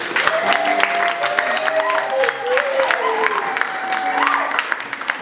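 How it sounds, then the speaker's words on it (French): Applause from a congregation at a Congolese religious wedding ceremony in Argenteuil: dense, sustained clapping from a crowd, loud and close, with a voice and some cheering mixed in. "Applaudissons"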